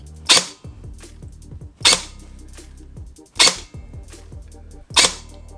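G&G Cobalt Kinetics airsoft gun firing BBs, four sharp loud shots spaced about a second and a half apart, each followed by a mechanical clatter and rattle in the quiet gaps.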